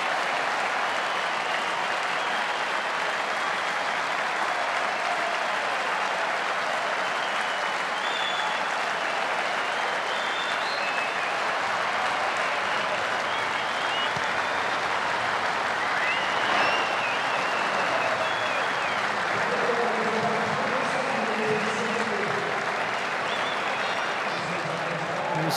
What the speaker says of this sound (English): Strong applause from the crowd.